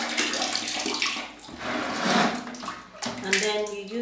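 Running water pours and splashes steadily as something is rinsed off under a tap, with the flow shifting as hands move through it.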